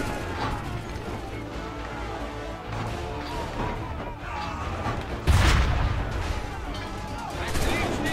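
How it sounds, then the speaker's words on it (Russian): A gunshot booms in the Assassin's Creed 3 video game during a battle, one sharp blast rising out of a dense, continuous wash of in-game music and combat noise. "Отличный выстрел!"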